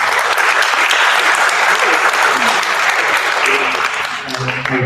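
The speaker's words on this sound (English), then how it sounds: "I'm sure that we get a round of applause from the residents." Residents at an association AGM applauding, loud close clapping from a room of people that holds steady for several seconds before thinning out, with voices briefly audible at the end.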